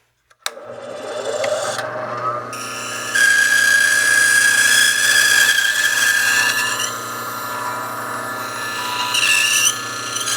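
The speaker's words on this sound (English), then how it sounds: "we'll be bringing this back and grinding this edge here" A woodturning scraper's edge is pressed against a spinning stone grinding wheel, giving a steady, loud abrasive rasp over a constant motor hum, with the grinding getting harsher midway and continuing unbroken to the end.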